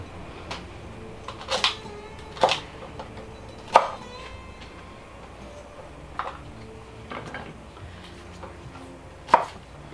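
A knife chops celery on a cutting board in scattered, sharp individual strikes spaced a second or so apart, close and fairly quiet against a soft background hum.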